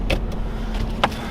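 The electric sunshade in a Genesis G70 Twin Turbo moves with a steady low motor hum inside the cabin, marked by a couple of short clicks near the start and end.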